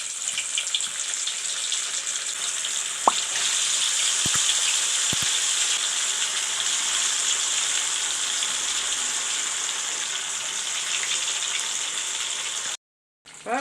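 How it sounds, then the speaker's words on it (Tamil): Sabudana vada frying in hot oil, a steady loud sizzle and crackle filling the scene with a few brief pops and clicks, no voices over it. "இப்போ நம்ம வடையை போட்டுக்கலாம்."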